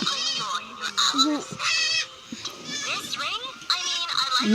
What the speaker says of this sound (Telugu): అప్పుడే మేకలు ఇంటికి వచ్చినాయి